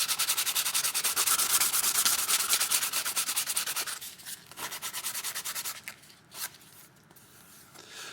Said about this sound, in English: I'm going to sand this up